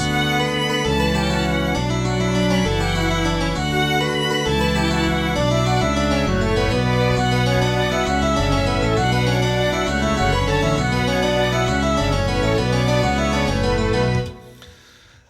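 A full string ensemble with viola and cello plays rich, sustained chords with a low cello line underneath, then stops abruptly near the end.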